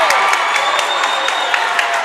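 A high school boys' basketball crowd cheers and claps loudly and steadily after a one-handed slam dunk, with dense whoops and shouts throughout.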